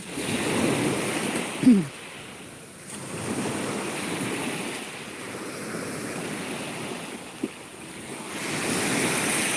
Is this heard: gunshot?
no